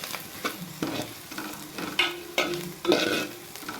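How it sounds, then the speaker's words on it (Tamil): Coriander powder and turmeric are sautéed in a hot pan for tomato kurma, with a soft sizzle under about seven rhythmic, close scraping stirs. "நல்லா வதக்கி விடுங்க."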